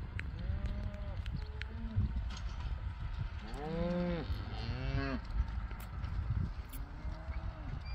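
A large herd of about 350 cattle in an open field on a March day, with several drawn-out moos rising and falling, some closer and overlapping, over a steady outdoor background.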